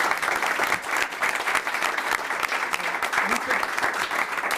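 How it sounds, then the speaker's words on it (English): Audience applause at a school committee meeting honoring a league all-star athlete, steady dense clapping from a room of people that holds at an even level throughout. "If we could please give him a round of applause."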